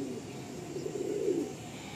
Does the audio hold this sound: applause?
no